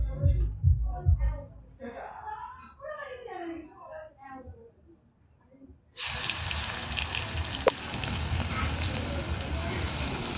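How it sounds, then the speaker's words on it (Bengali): Onion and green chilli hit hot oil tempered with black cumin seeds and burst into a loud, steady sizzle that starts abruptly after a stretch of speech and keeps going with a crackle. "পেঁয়াজটা ভাজা হবে।"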